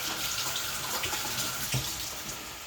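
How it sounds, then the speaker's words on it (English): Hands rinsed under a running kitchen tap, a soft continuous splash of water with a brief louder splatter partway through, close and fairly quiet. "Let me rinse my hands"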